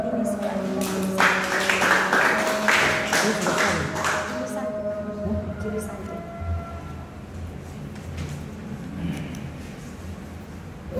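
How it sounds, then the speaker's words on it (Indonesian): Class audience in a philosophy lecture room applauding, a dense patter of clapping that fades out over several seconds, with voices and murmuring underneath. "Oke, tepuk tanganlah."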